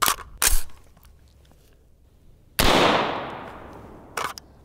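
An AR-15 rifle fires .223 rounds at a cardboard target outdoors: a few sharp, loud reports, one ringing out with a long decaying echo, separated by quiet gaps.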